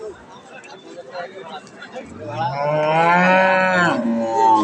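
Quiet background sounds give way to a cow letting out a long, loud moo close by at a livestock market, followed by another lowing call.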